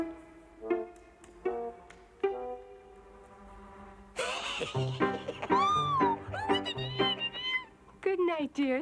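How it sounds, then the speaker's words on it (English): A kitten meows repeatedly in an animated wetland scene, several short plaintive cries followed by longer, louder wavering meows, close and clear with no talking. "Just a little kitten."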